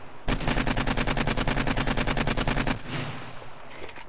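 Rapid automatic gunfire in the survival video game 7 Days to Die, a sustained loud burst of evenly spaced shots lasting about two and a half seconds before cutting off, with no speech.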